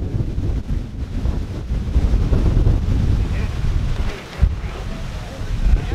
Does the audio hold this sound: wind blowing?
yes